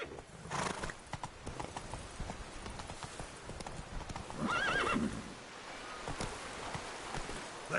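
Roach the horse gallops in The Witcher 3: Wild Hunt, a steady run of hoofbeats with a whinny partway through, over rustling ambience and a faint voice.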